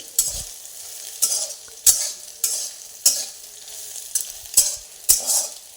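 Soybean fry stirred in a hot pan, with a spoon scraping and sizzling in regular sweeps about every half to one second, close and fairly loud over a steady frying hiss.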